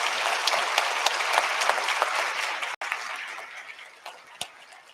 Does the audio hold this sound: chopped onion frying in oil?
no